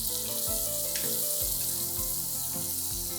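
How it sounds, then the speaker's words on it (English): Chopped onion, garlic, ginger and green chilies stir-frying in hot oil, a steady close sizzle with periodic scraping strokes of a spatula repeating roughly every half second. "Quickly stir fry the aromatics."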